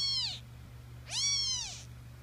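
A cat or kitten gives two drawn-out, moaning meows, each rising then falling, close and fairly loud over a steady low hum, with a short pause between them.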